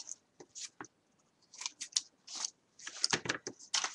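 Scissors snip through paper for a colourful canvas album craft project, with a run of quick, close crisp cuts in short clusters separated by brief pauses.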